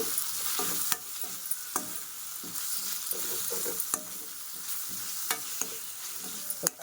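Ponnaganti greens with chili powder and salt being stirred in a pan, quiet sizzling broken by repeated sharp taps and scrapes of the spoon, close and fairly soft.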